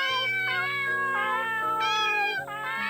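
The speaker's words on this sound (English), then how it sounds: "Oh, lots of cats here." Several cats meow in layered, overlapping calls in the horror game The Forest of Drizzling Rain, a close, steady chorus of tonal mews running for about three seconds with no talk.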